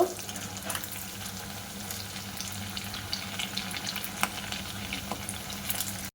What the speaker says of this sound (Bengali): এবার আমি ল্যাংচাগুলো ভেজে নেব।